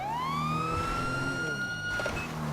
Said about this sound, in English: I'm going to turn off my sirens